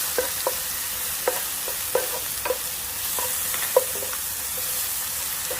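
Chopped onions with a pinch of salt sauté in butter in a pan, a steady soft sizzle broken by occasional light scrapes and taps of a stirring utensil, close up, with no talking.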